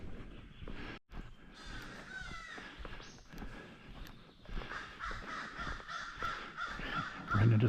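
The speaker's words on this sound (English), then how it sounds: "Ran into some crows and some bugs." Crows caw repeatedly around a backpacking trail by a lake in Indiana, harsh calls at moderate distance mixed with rustling footsteps, fairly faint.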